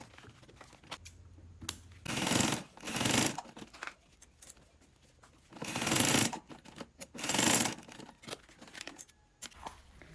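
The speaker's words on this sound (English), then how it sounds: "I will sew those top edges with 1/8 seam allowance" Sewing machine stitching along the top edges of a fabric bag panel with a narrow seam, in four loud bursts of whirring separated by quieter handling rustles and pauses.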